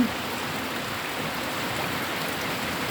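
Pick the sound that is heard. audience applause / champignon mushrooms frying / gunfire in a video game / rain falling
rain falling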